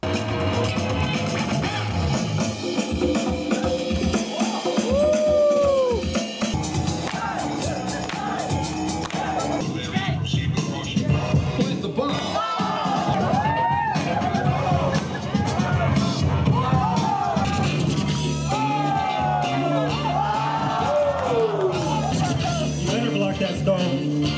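A loud crowd cheers and hypes continuously at a one-on-one dance battle, with whoops, shouts and chatter layered over pounding music throughout.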